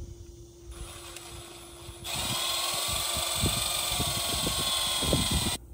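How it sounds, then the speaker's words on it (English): A 1/4 inch drill bit boring through a fuse box cover: a quieter mechanical whir first, then a loud sustained high-pitched drill whine with rattling knocks underneath, stopping abruptly. "1/4 inch drill bit. Watch the fingers. Go through your fuse box cover."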